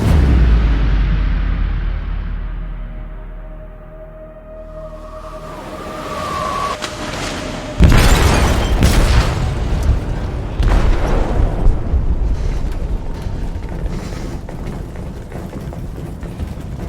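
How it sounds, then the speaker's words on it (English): An explosive goes off in a ship's hold in Detroit: Become Human: a sudden loud, deep boom cuts through a rumbling low backdrop, followed by crashing debris and a lingering roar. "They detonated an explosive in the hold."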